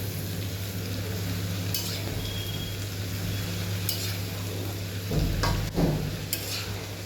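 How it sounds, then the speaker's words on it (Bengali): Onion being stirred and fried in a pan, a steady low sizzle with a constant hum underneath and a few scraping stir strokes near the end, no voices. "আমি একটু পেঁয়াজটা নেড়ে দিলাম।"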